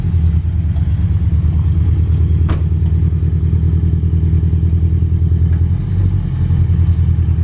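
A lowered Scion FR-S rolls off wooden planks, its engine a steady low rumble throughout with a brief clack near the middle and faint clatter, close and loud with no talking.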